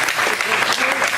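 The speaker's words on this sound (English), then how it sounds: "This guy needs a round of applause." Steady applause from a wrestling seminar audience, dense and loud throughout, with crowd voices mixed into the clapping.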